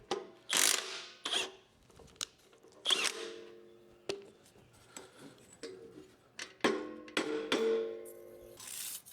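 A ratchet works loose a bolt on a cutting unit in bursts of close, sharp metallic clicking, separated by quieter handling clunks and pauses.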